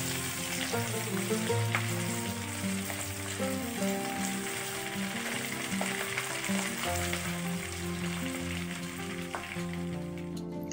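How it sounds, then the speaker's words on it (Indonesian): Lemongrass, bay leaves and cinnamon sautéing in a pan, a steady soft sizzle and crackle that runs evenly throughout with no talking, under faint background music. "Setelah layu, masukkan serai. daun salam, dan kayu manis. Tumis sampai harum."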